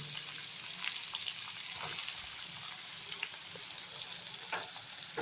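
Onions crackle and sizzle in hot oil already used for frying eggs, a dense continuous hiss close up, with occasional scraping stirs and no voices.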